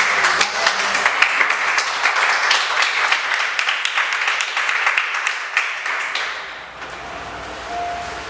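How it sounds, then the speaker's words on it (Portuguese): A church congregation claps together in a dense, steady wash of many hands, sustained for several seconds before tapering off, fairly loud and heard from within the crowd. "Você se assenta, aplaudindo a palavra do Senhor."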